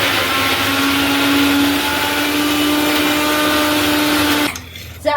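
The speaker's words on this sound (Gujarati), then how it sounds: "હવે આપણે ગ્રાઇન્ડ કરી નાખશું એને" A mixer grinder whirs loudly and steadily up close, blending gathiya with green chillies, coriander and ginger into chutney, its motor whine holding for several seconds before abruptly stopping.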